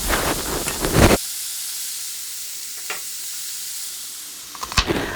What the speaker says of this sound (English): taking that ground beef and just putting that in the pan, letting it brown